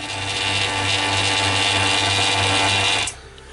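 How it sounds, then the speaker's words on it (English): A vacuum chamber used for mould making runs with a loud, steady mechanical whine and low hum, then is switched off near the end as the roar drops away to quiet. "just turned off the vacuum chamber yet again"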